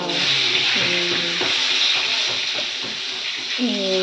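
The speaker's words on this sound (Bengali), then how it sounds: "এই দেখো বেগুন ভাজছি বেগুন ভাজছি" Eggplant slices fry in a pan in a home kitchen, a steady broad sizzle with scraping stirs running throughout, close and fairly loud, with a voice talking over it.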